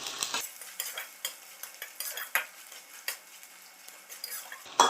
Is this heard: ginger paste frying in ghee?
yes